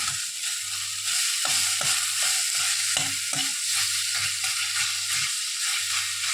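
Chopped onion stir-fried in a pan, nearly cooked down and starting to brown, gives a steady loud sizzle with repeated scraping strokes of a spatula at an even rhythm, no voices.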